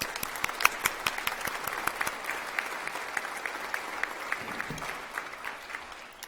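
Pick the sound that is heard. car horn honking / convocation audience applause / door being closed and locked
convocation audience applause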